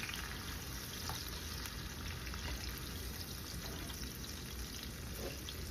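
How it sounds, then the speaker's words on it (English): Tuna meatballs frying in hot oil left from frying patties: a steady, dense sizzle that holds at an even level throughout with no talk. "We're gonna fry them in the same oil that we fried the patties"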